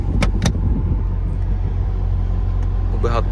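Engine of a 2024 Dodge Durango R/T firing up via keyless push-button start, a couple of short clicks followed by a low steady rumbling idle, fairly close, with a brief voice near the end.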